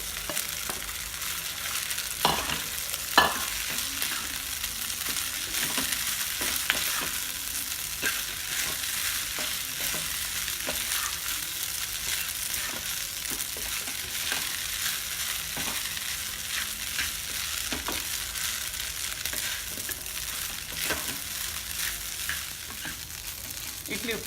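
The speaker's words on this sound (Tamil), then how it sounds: "இப்போ நம்ம உதுத்து வச்சுருக்க இட்லியை அதில் சேர்த்துடலாம்." Crumbled idli is stirred into sautéed onions in a frying pan for idli upma, with a steady close sizzle and repeated spatula scrapes continuing throughout, no voices.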